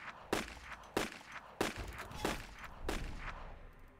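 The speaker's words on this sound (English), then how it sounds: "I make short work with the 2 and empty a whole pistol magazine into them." Pistol fire in a first-person shooter set against Russian soldiers: five sharp, evenly spaced shots about half a second apart, loud and close, the last one trailing into a fading echo.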